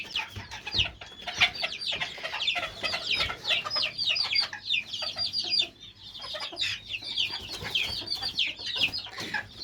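Young hens and chicks in a coop cluck and chirp busily in a dense, overlapping chorus, close by and continuous, with occasional fuller clucks standing out.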